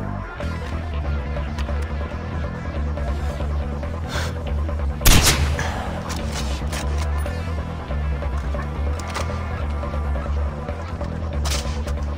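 A single sharp gunshot in the Far Cry 4 video game cracks out over a steady background of music and ambient hum, with a couple of fainter shots around it.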